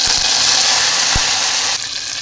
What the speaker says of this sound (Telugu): చూడండి, పోపు అయితే వేగింది కదా.